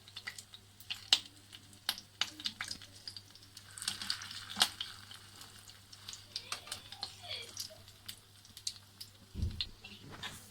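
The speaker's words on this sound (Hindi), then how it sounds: "और इसको हमने लो फ्लेम पे शैलो फ्राई करना है।" Cheese toast shallow frying in a pan over a low flame, giving a faint, steady crackle with light scattered pops and brief utensil clicks, low and close with no talk.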